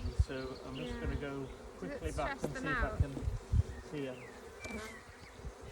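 Honey bees drone around an open beehive during an inspection, a steady close buzz running beneath a person talking.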